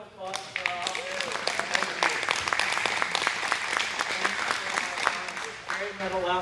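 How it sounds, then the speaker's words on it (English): Applause from attendees at a general meeting of the Lents Neighborhood Association, a steady patter of many hands clapping throughout, moderately loud in the room with some voices mixed in. "Round of applause for all."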